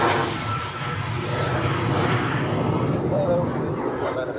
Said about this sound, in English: It sounds like a smaller airplane.